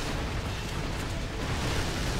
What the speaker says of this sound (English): Chaos unfolding everywhere. Just explosions, giant sci-fi battleships duking it out.